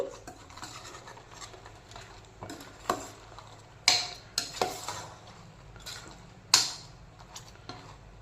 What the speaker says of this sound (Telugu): ఇప్పుడు దీన్ని మనం బాగా మిక్స్ చేసుకోవాలి